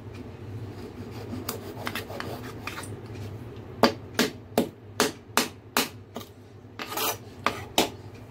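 Small Bombay duck fish cut into pieces with a knife, with soft scraping early on, then a steady series of crisp, regular cutting knocks close by.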